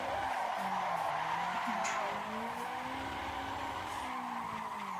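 Tires squeal steadily as a car drifts in the Assetto Corsa racing game, a continuous loud screech over engine drone holding for several seconds with no talking.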